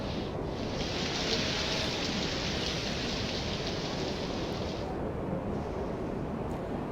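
Rain pours over the towns of Modasa, Bayad and Dhansura in Gujarat during the Navratri festival season, a dense, even hiss holding steady throughout with no voices.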